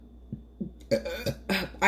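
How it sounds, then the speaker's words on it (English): A man belches several times in a row, short guttural burps of rising loudness spaced across under two seconds, the last ones louder and fuller. "I do a lot of belching."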